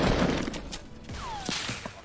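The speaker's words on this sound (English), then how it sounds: "I just got sniped at from the east" Sniper rifle shots in Fortnite, a few sharp cracks amid a dense rumbling game mix, loud and close over about two seconds.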